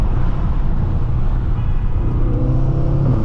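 A tuned 800-horsepower BMW M6 engine roars loud and close on a New York City street, a steady deep rumble with rising revs toward the end, with no talking.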